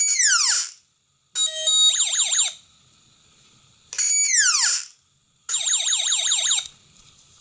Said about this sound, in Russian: вот такая звуковая сигнализация попадания будет куда интересней